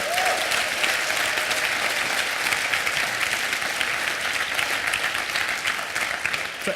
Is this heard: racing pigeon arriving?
no